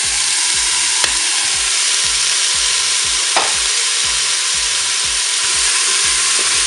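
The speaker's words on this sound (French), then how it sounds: "ça fait 1 minute que mon mini chorizo est en train de dorer. Je vais rajouter maintenant mes légumes." Mini chorizo and vegetables fry in a Cookeo multicooker, a loud, steady sizzle with the rhythmic whir of the stirring paddle pulsing beneath it and a couple of sharp clicks.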